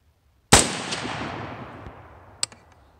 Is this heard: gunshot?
yes